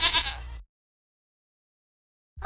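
A baby goat lets out a short, wavering bleat, then silence, and a second bleat begins at the very end; both are close and clear.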